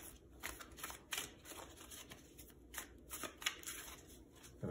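Cards are shuffled close by, a soft riffling and flapping in uneven bursts, quiet with no talking.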